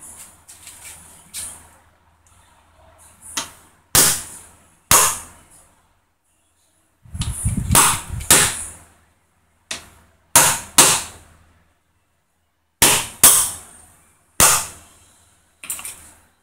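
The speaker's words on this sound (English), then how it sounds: "I can start to hammer it." Sharp metallic hammer strikes fitting an insert into an injection mold, single and in quick pairs, spaced irregularly with short pauses, close and fairly loud.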